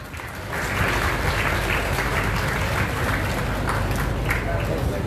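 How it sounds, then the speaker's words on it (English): A crowd at the Aqua Goa Mega Fish Festival 2024 breaks into applause that swells after a quiet start and stays steady, a dense patter of clapping with faint voices underneath. "Let's give a big applause."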